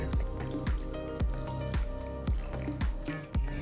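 Fresh coconut milk stirred into a simmering chickpea curry, with soft rhythmic wet squelches and drips from the spoon, close and fairly quiet.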